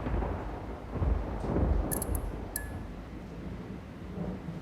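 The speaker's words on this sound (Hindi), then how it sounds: "बारिश?" Rain and rolling thunder in a Kamen Rider Gavv episode scene: a steady wash of rainfall with deep rumbles swelling in the first half, plus a couple of faint high metallic glints.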